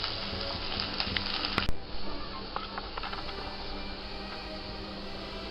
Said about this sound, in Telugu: ఇప్పుడు ఇవన్నీ బాగా ఎర్రగా వేగే వరకు ఫ్రై చేసుకోవాలి